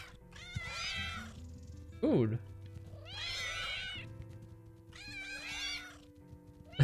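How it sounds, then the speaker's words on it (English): Meows from a cartoon cat in the cat-themed game Play with Gilbert Remake, played in multiplayer: three clear, drawn-out meows spaced a couple of seconds apart, with a person talking between them. "Found another cat."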